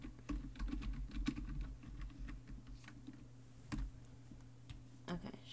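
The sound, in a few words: typing on a computer keyboard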